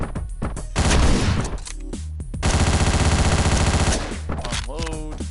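Rapid assault rifle bursts in Hotline Miami hammer out in two loud, sustained volleys of fast repeating shots, with a few separate single blasts at the start and end.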